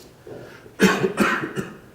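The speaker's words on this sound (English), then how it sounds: "Sorry about the coughing." A person coughs three times in quick succession, sharp and close, after a quiet pause.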